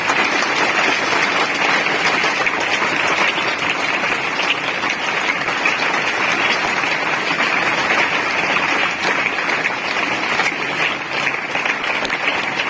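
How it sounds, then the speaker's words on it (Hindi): Vigorous, sustained applause from an audience at a motivational speech event, a thick continuous wall of clapping that stays loud and even throughout with no talking over it. "बजाओ ताली जरा जोर से।"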